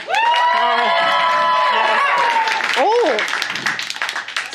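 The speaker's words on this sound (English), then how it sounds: "Round of applause if you've never been to the show before." Live comedy show audience breaking into applause and cheering, a dense wash of clapping with whoops and shouted voices, loud and close before tapering off.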